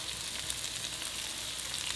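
Pork belly stir-frying with sugar and scallions in a hot pan gives a steady, close, even sizzle with bright crackle and no talk.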